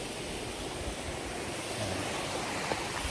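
A river flows nearby as a steady, broadband rush of water, fairly faint and unbroken, with no voices over it.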